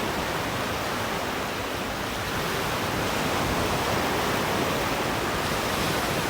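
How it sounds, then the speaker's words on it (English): Ocean surf rolls continuously onto White Sand Beach on Koh Chang, Thailand, a steady broadband wash of breaking waves that swells slightly louder midway, with no voices. "Hearing the surf."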